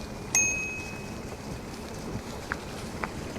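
A single bright bicycle bell ding rings out on a rail trail from an e-bike, with a sustained shimmering tone, then faint outdoor rustle and light footfalls or taps follow.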